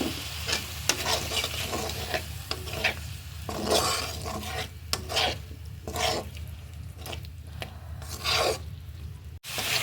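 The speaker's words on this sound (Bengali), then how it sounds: "এই মশলার ভিতরে আমি আলুটা কষিয়ে নিচ্ছি" Potatoes sautéing in spice paste in a pan, after tengra fish has been fried, make a continuous sizzle under repeated scraping, rasping stirs of a spatula against the pan in an uneven rhythm.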